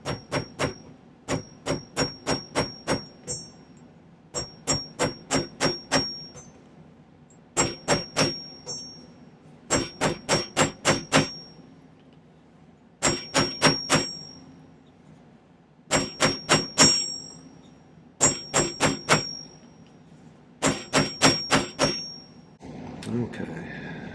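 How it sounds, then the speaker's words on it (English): A small chasing hammer strikes silver resting on a steel disc cutter at a silversmith's bench. It lands in close, ringing bursts of four or five quick taps, repeated about ten times with short pauses between. "let's use my little chasing hammer kind of."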